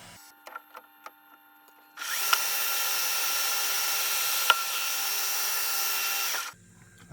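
Colchester Chipmaster lathe taking a roughing pass, a steady loud cutting whine that starts abruptly, holds for about four and a half seconds and then stops, with faint clicks before it and no talk.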